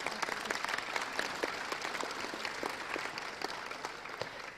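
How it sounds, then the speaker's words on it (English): An audience at an EC2018 talk claps steadily for several seconds, dense and fairly loud applause filling the room with no voices over it. "we should just give her another big round of applause"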